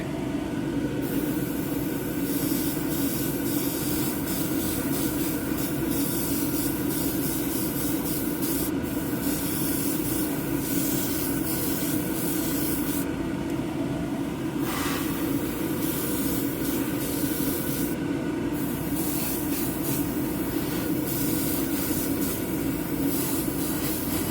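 Continuous spraying over a coat of liquid latex to build a rust effect, a steady broadband hiss running without a break from start to finish at even loudness, with no talking.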